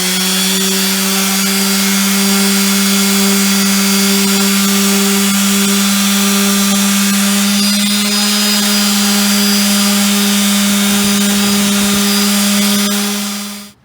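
A power sander working a shaped wooden piece for a turkey fan mount, a loud, steady motor whine with strong tonal hum running unbroken until it winds down at the end.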